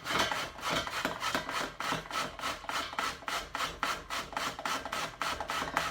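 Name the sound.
grating courgettes with the skin on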